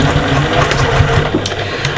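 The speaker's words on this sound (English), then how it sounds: "Pop it under your machine. And we're just going to do a little back stitch to start." A sewing machine makes a short back stitch to start a seam on a cross-body bag, a steady mechanical hum and whir running through the two seconds.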